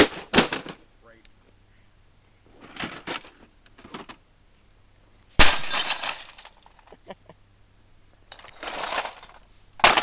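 A hammer smashes a scanner, sending loud, sharp bursts of breaking glass and clattering debris in several separate impacts, with people talking between the blows.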